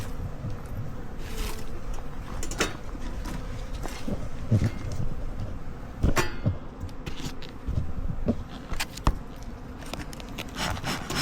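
Honeybees buzzing as a sealed hive is cracked open for the first time since fall, a dense close hum under scraping and rubbing of wooden hive parts, with scattered knocks.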